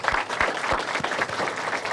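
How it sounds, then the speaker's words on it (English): Audience applause for the mayor, Justin Biggs, at a Junior Mayor's Association presentation day: a modest crowd clapping steadily for about two seconds, with distinct individual claps audible within the wash. "Can we get another round of applause for our great mayor"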